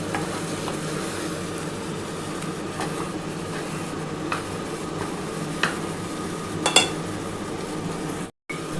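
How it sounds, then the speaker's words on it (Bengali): Bombay duck fish being sautéed and stirred in a pan gives a continuous, fairly loud sizzle with a steady low hum and a few sharp scrapes or clinks, no voices, cut briefly near the end. "আমি লোটে মাছটা কিন্তু কষাচ্ছি।"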